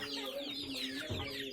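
Pet chickens cluck steadily at close range, overlapping soft calls from several birds with no talking.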